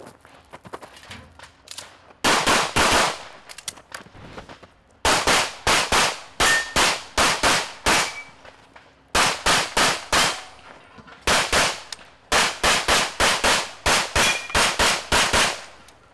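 Rapid gunfire on a shooting competition stage packed into one small confined area, loud sharp shots fired in fast bursts and strings with brief pauses between them.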